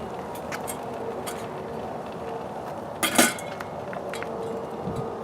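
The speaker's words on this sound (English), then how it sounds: "Let's put our lid on here." Metal lid set onto a Solo Stove Titan, one bright clanking clink near the middle, plus a few lighter metallic ticks over a steady crackling, hissing fire background.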